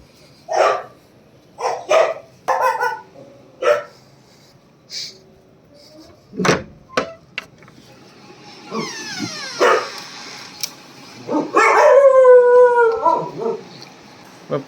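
Dogs let out a series of loud, close barks and yips, then swell into long, wavering howls toward the end, during a temple trip to Srisailam.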